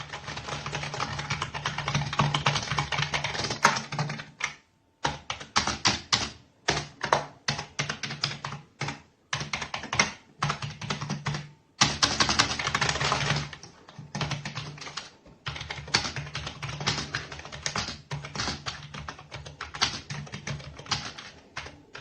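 Continuous typing on a TECKNET USB wired gaming keyboard with 15-zone RGB lighting, dense rapid keystroke clatter in close bursts, broken by short pauses, with no voices.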